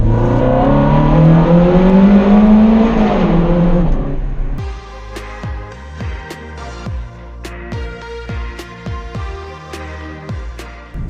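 Ferrari 430 Scuderia engine revving hard with a loud rising then falling sweep, then a series of sharp throttle blips and gear changes with crackling bursts, close and loud throughout.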